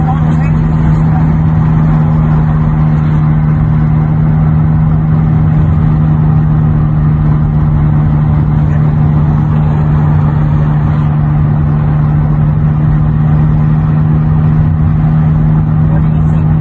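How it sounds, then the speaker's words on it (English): Steady engine rumble of cars and trucks travelling along a busy four-lane two-way road, a loud continuous drone heard from close by, with no individual passes standing out. "There's a lot of traffic on this road."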